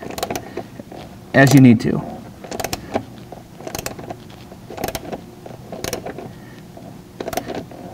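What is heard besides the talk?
ratchet tightening a nutsert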